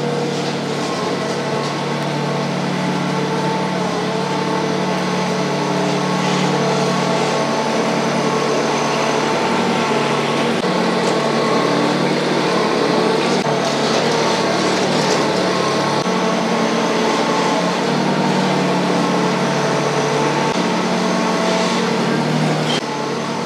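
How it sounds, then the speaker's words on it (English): Heavy machinery with a steel bucket scraping dirt at a barn site to prepare a concrete pad, its steady loud engine drone running continuously throughout with no talking. "So we got the sides scraped up with the bucket."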